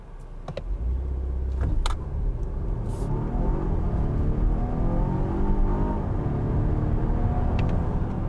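A 2022 Volvo XC60 Recharge plug-in hybrid SUV accelerates hard slightly uphill, giving a steady, loud rumbling road and drivetrain roar from inside the cabin, with a few faint clicks at the start.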